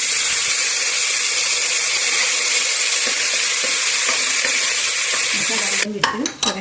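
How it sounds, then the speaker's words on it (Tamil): Ground masala paste frying in a pan for a gravy, giving a loud, steady sizzle and hiss with occasional stirring scrapes. Near the end the sizzle drops away and a few sharp clatters of a spoon or utensil follow. "இந்த அரைச்ச மசாலாவை அதில் போட்டுறேன்"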